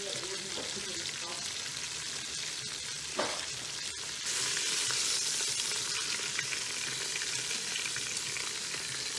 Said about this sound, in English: I think I like this sear better than what I was getting before.